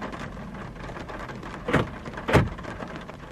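Rain falling outdoors, a steady wash of hiss with two louder swells of rushing water or passing spray, close and alone without voices.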